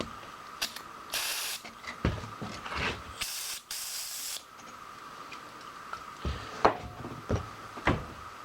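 Cleaner sprayed onto a golf cart axle in short hissing bursts, several spaced sprays mixed with clicks and clanks of handling parts nearby.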